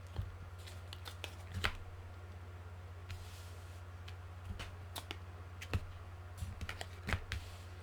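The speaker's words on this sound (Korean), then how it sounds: "타로 카드 한번 펼쳐서 같이 살펴볼게요." Tarot cards spread out across a surface, a run of soft, sparse clicks and light slaps scattered over a steady low hum, with no talking.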